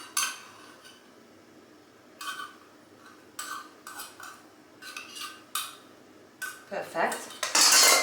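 A spoon clinks and scrapes against a pot while stirring quince puree with cinnamon, in intermittent bursts that grow busier toward the end; one short spoken word is heard.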